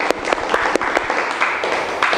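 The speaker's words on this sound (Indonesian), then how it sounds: "Tepuk tangan dulu untuk hasil kesimpulannya." A small group claps together in a steady, close burst of applause, with a few louder individual claps standing out.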